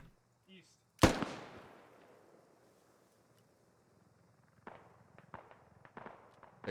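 A single loud gunshot in the tactical shooter game Squad booms up close and rings off slowly, followed by quieter scattered distant shots, with faint voices in the background.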